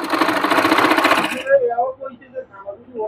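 A sewing machine stitches piping along the edge of a trouser piece in a loud, continuous burst that stops abruptly partway through, after which only faint soft sounds remain.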